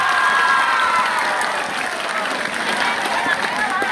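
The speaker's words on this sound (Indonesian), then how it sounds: "Tepuk tangan buat wanita" Audience clapping for women at an Islamic religious lecture (ceramah) in Cisoka, a steady dense wash of applause with crowd noise that holds for about four seconds, slightly easing midway.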